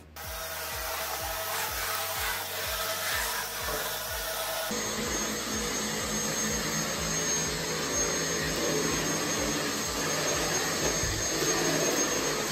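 An LG CordZero A9 cordless vacuum picking up Malamute dog hair, a loud continuous close-up whine with rhythmic rubbing strokes, the pitch stepping up partway through as suction increases.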